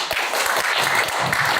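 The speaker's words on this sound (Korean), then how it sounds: "다시 한번 큰 박수 부탁드리겠습니다" Audience applause at an indoor policy lecture forum in Seoul, a sustained dense wash of clapping across the whole moment, fairly loud and close, with no voices over it.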